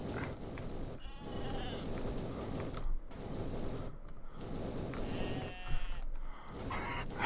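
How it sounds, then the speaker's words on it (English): Sheep in the video game Fowl Space bleat repeatedly over a steady, busy game soundscape with creaky mechanical noises, the calls moderately loud and fairly close. "Ran right into that sheep."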